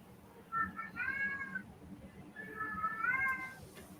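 Two drawn-out cat meows, fairly faint, one after the other over a low background hum.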